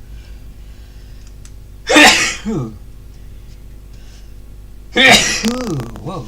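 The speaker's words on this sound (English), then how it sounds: "double sneeze" Two sharp sneezes about three seconds apart, each a sudden loud burst trailing off, with a brief spoken exclamation between them.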